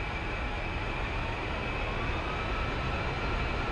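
A military aircraft taxis on the ground from a parking area along a taxiway, its engines holding a steady, unbroken drone at moderate level with no gaps or changes in pitch.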